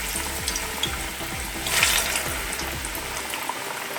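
A piece of plantain fries in hot sunflower oil in a pan, with a steady close sizzle and spattering that briefly swells louder, and no voices.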